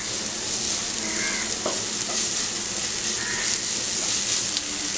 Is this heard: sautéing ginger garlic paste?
yes